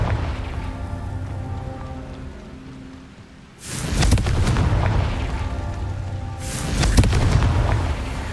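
The Confringo fire spell goes off in the Hogwarts Legacy video game, two loud booming blasts with crackling tails over a low steady game ambience.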